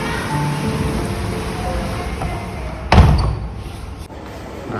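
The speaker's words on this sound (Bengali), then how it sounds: "সিরিয়াসলি মারাত্মক বৃষ্টি চলছে বাইরে" Heavy rain with wind pours outside an open window in a steady, loud broadband rush, broken by one sudden thump near the middle before the downpour carries on.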